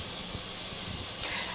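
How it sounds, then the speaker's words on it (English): A pressure canner loaded with green beans vents steam in a loud, steady, close hiss that holds without a break. "we're forcing as much air out of there as possible and filling it with steam. So that's a pretty good amount of steam"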